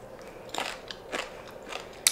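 Crunchy cooked green beans bitten and chewed close to the mouth, giving several crisp crunches in an uneven rhythm with no talking.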